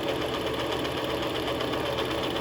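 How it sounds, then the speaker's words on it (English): A sewing machine stitching a wig runs in a continuous, even mechanical whir with a rapid needle rhythm, fairly quiet and alone. "then I'm going to hold on and sew"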